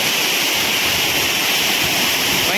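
Close, loud roar of water pouring over the rocks at Areekal waterfall near Muvattupuzha, a constant rush without pauses or voices.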